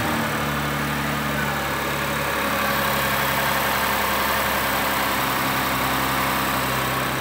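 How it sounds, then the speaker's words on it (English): A 2013 Lexus GS350 with a 3.5-liter engine idles smoothly and steadily, a constant low hum held at even loudness throughout, with no speech. "Motor runs good."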